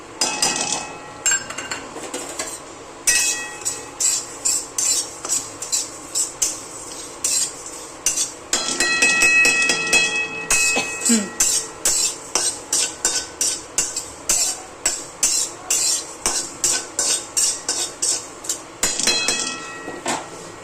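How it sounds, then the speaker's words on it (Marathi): Sesame seeds are roasted in a large kadhai, with a spatula or ladle scraping and clinking against the metal pan in quick repeated strokes, alone without talk. "आता मोठ्या कढईमध्ये ना हे तीळ भाजून घ्यायचे."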